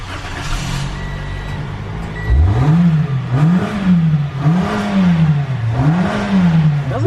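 A car engine just after a cold start, first a low steady idle, then loud revving that rises and falls in repeated waves, close by and without talk.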